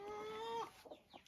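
Silky, heavily feathered hens cluck in a henhouse: one drawn-out tonal call first, then a few short, softer clucks at a moderate distance.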